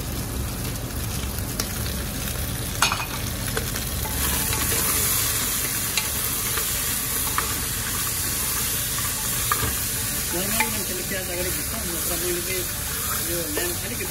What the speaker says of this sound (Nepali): अब यसलाई म प्याज हालेर भुट्छु अलिकति